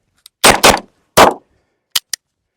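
Five sharp 9mm pistol shots from a Beretta 92G Elite LTT fired during accuracy testing: three loud reports close together, then two quicker, fainter cracks after a pause.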